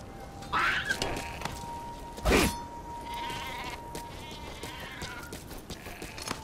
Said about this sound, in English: Sorry, sheep, but I need to eat.